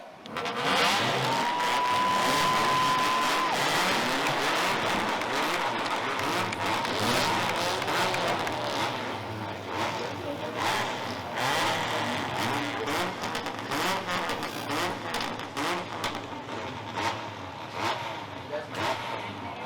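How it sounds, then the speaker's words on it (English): Race car engines start up and roar around Peterborough Speedway at the Autumn Colours race. A dense, loud engine rumble rises as the field gets moving, with crowd noise and announcer talk over it. "Ladies and gentlemen, start your engines"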